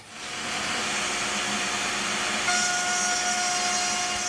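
A router bit cuts a 1/4-inch (6 mm) slot into curved wood as a steady, loud whine that holds without pause, with a high tone that sharpens partway through the cut.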